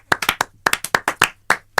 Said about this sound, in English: let's have just a few of us clapping.